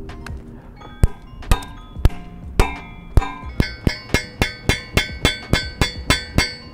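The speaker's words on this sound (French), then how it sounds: "je suis équipé d'un marteau. Du coup, on va essayer de le péter." A hammer strikes an Eroz handcuff-style scooter lock again and again, sharp metallic clanks that start spaced out and then quicken into a steady, fast pounding rhythm, close and loud with no speech.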